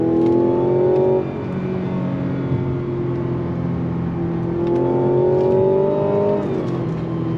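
A Mazda CX-90 engine drones steadily while driving through a right-hand bend, partly augmented through the cabin speakers, with a smooth rising pitch that dips briefly and then climbs again.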